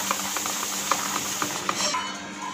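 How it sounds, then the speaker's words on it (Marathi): A spoon stirs food colour through chocolate cake batter in a bowl, soft scraping and clicking strokes repeating in a loose rhythm, close and fairly quiet. "फूड कलर घालून एका साईडने मिक्स करून घेऊया।"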